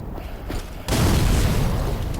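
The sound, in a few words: bomb thrown and exploding in video game Dark Souls 3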